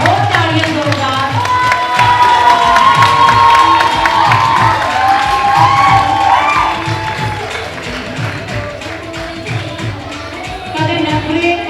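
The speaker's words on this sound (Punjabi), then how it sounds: "ਹੋਰ ਤਾੜੀਆਂ ਜ਼ੋਰਦਾਰ" Beauty pageant audience in Fresno cheering, whooping and clapping loudly, a dense crowd roar over pulsing background music that eases slightly then swells again.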